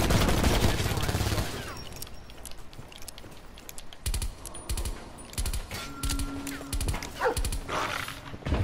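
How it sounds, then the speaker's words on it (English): A dog in Call of Duty: Black Ops 4 makes brief sounds amid a busy multiplayer firefight, with gunfire bursts and clattering effects layered over it at a steady, loud level. "Of course, that was a dog."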